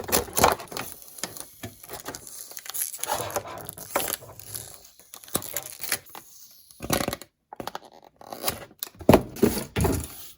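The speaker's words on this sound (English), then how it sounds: "We get the rest of the tape off." Tape comes off a plastic toy pirate trunk in bursts of sharp crackling, ripping and tapping, with irregular loud clicks separated by brief quiet gaps and no voices.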